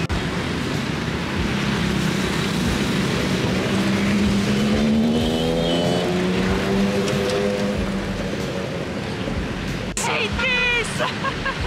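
Busy street traffic thick with motorcycles in Ho Chi Minh City, a loud constant engine roar with several engines rising and falling in pitch as they pass close by, and a sharp burst of higher revving near the end.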